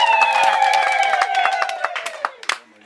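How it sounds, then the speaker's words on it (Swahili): A lively gathering at Ma Geogina Kokutenda's birthday celebration claps rapidly and steadily while high sustained ululation rings over the claps, slowly falling in pitch before the clapping thins into a few scattered hits. "Hayajatosha bado. Makofi na vigelegele."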